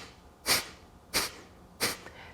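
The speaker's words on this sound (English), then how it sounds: "it'll sound like kind of a sniff or a puff of air" Three sharp, forceful nasal exhales of Kapalabhati yoga breathing in an even rhythm, each a short puff of air through the nose, close and clear.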